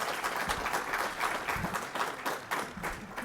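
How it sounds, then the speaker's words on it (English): Graduates applaud their families at an Advanced Technology Institute graduation ceremony, a brief burst of steady group clapping heard moderately close, with a faint murmur of voices beneath. "I am sure that they would like to give you a rousing applause for all your support"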